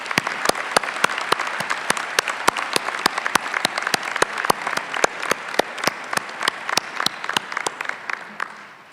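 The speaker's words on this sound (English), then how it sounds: "Let's give them a round of applause." Applause from the audience at an evening and weekend MBA commencement: a broad wash of crowd clapping with a crisp, evenly spaced clap standing out in a steady rhythm, continuing throughout and fading slightly at the end.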